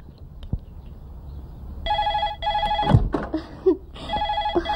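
A telephone rings in a Telugu comedy film scene, sounding in repeated bright electronic bursts up close, broken by a thump and brief rustling, with no talk.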